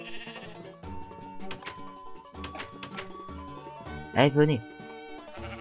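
Blocky Minecraft sheep bleat a few times, one loud nasal bleat standing out near the end, among game sounds while someone talks in French over them.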